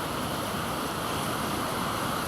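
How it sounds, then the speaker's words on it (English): The River Wharfe crashing through the Strid, a narrow rock chasm, as a dense, constant, loud roar of rushing water, close and unbroken with no voices. "the river as it crashes through creates caves and eddies underneath the water"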